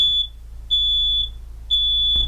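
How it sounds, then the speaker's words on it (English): A smoke detector alarm sounds three loud, piercing high beeps, each held for about half a second with short gaps between them, clear and close with nothing else behind them. "Fires create smoke which rises and makes your smoke detectors do this."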